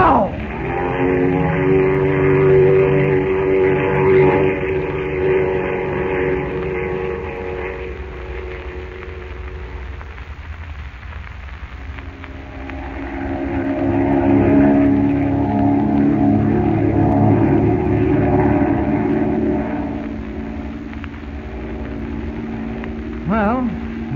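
A propeller airplane drones steadily in flight in a Superman cartoon, a loud continuous engine hum that swells and fades slightly, with no one talking over it.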